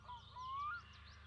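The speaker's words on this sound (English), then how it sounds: "Someone needs to shoot those birds, please." Birds honk in the My Summer Car video game, a single goose-like call rising and drawn out, faint and alone over a low, quiet background rumble.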